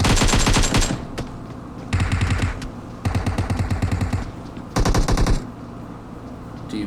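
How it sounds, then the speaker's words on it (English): Automatic gunfire in a PUBG match, loud close bursts of rapid shots in four separate volleys with short quieter gaps between them. "Looks like Lionel was shooting off."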